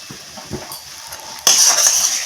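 A spoon stirs grated potato filling in a pan for a Bengali tiffin, giving soft scrapes and light clinks, then a brighter sizzling hiss rises partway through and keeps going steadily to the end.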